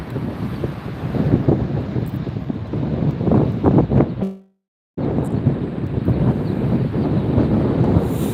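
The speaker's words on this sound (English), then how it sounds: "the wind is picking up a little bit" Strong wind buffets the microphone at an airport, a steady loud roar that cuts out briefly midway and then resumes just as loud.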